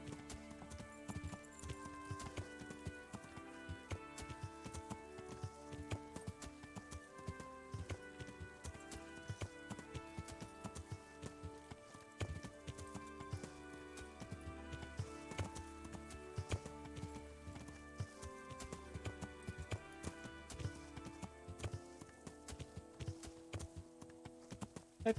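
Horse hooves clip-clopping in the video game Kingdom Come: Deliverance, a steady faint trotting rhythm that runs under in-game music for the whole stretch.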